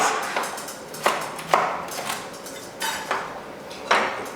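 Carrots being roughly chopped with a knife on a board for a Caribbean dish, giving a handful of irregular, fairly close knocks and clinks spread over a few seconds with no talking.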